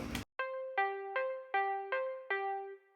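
A layered synth patch called Swede Picked, treated with exciter, chorus and EQ, plays six clean plucked notes in an even rhythm, each ringing and decaying. It is heard alone, with a short burst of noise at the start.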